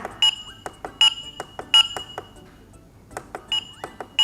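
Short electronic beeps from a K9 PRO automatic thermometer and sanitizer dispenser while its volume is being set, a series of clear tones in irregular bursts, some longer chimes, with quiet pauses between.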